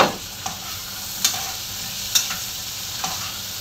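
Tomatoes and cheese sizzle steadily in a hot pan while pinakbet is cooked, with faint stirring scrapes breaking through the frying hiss at a slow, irregular pace.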